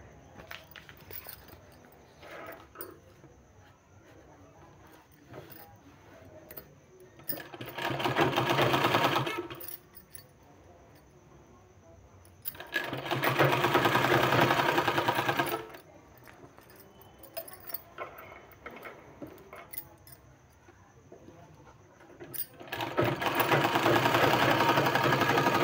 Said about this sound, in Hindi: इस तरह से सिलाई लगाने के बाद हमने ये 2 इंच का चौड़ा पट्टी लिया हुआ है, इसमें इस तरह से हमको सिलाई लगाना है।